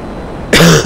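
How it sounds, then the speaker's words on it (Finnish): Someone coughs once, a single loud, close burst that cuts in after a quiet stretch of game-session background hum during a Grand Theft Auto Online play session. "Kauhia kun yskittää."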